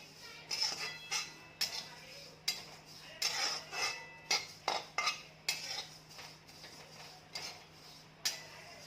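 White sesame seeds dry-roasting in a pan, heard as quiet, irregular scrapes and clinks of a spatula against metal, coming in short bursts separated by brief pauses.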